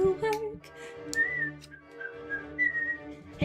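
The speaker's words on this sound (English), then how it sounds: "Hey, I whistled successfully." A person whistles a short, wavering tune with a few breathy notes, heard fairly close but quiet and alone.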